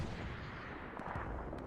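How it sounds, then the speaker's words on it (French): Artillery shells from a 76 gun in a video game battle at Sainte Marie du Mont: dense, continuous rumbling barrage of booms and distant gunfire, loud and unbroken with no voices. "On parle d'un 76 et on est en train de mettre des obus."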